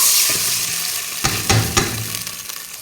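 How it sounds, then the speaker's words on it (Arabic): White rice for kabsa stirred into hot oil in a pot, giving a close, steady sizzle with a few sharp scraping stirs and clinks breaking through. "نخلي الزيت يحمى زيت، ادير التمن ها هي"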